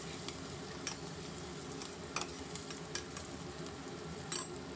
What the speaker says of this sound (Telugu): ఇందులో ఒక చిటికెడు పసుపు వేసేసి ఆనియన్స్ని బాగా ఎర్రగా వేయించుకుందాం మూత పెట్టి